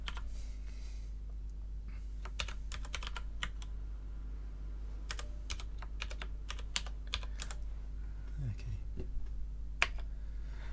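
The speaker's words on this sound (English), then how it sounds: "it's showing you that I'm typing a tab key" Typing on a computer keyboard during a programming lecture: quick irregular bursts of clicky keystrokes over a steady low hum, close and fairly quiet.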